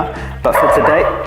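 A dog barks and yips close by at an outdoor cooking spot, a short loud burst overlapping a man's speech.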